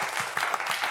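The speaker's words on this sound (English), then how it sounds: "I always like to introduce my guests by giving them a round of applause." A live studio audience at a talk show claps in a brief, even round of applause.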